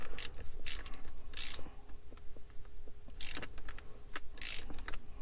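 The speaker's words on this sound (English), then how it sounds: "That's three grub screws tightened down." Grub screws being tightened on a Mercedes W203 manual gear shifter, giving small metallic ratcheting clicks and brief scraping bursts up close, repeated in short spurts with quiet gaps between.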